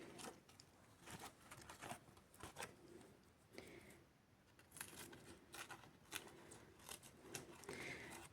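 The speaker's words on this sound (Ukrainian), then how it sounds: "я ділю на сегменти ножицями" Scissors snip a cane begonia leaf into segments, a series of faint, close crisp cuts spaced irregularly, with soft rustles of the leaf between them and no talking.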